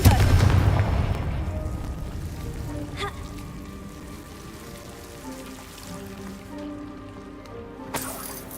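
Confringo fire spell explosion in Hogwarts Legacy: a booming blast opening the clip that fades into a rumbling decay, followed by faint debris crackles and a later sharp impact near the end.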